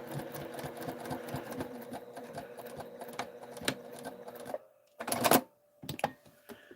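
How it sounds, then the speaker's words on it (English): A sewing machine stitches through a quilt corner, a close, rapid mechanical whirring that runs steadily for several seconds, then stops and gives short bursts. "I'm actually going to carry my stitch down a little bit so that I can stop it down here"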